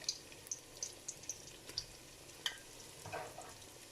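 Small magwinya dough balls frying in a pot of hot oil: a faint, soft sizzle broken by a series of sharp little pops and crackles spaced about half a second apart.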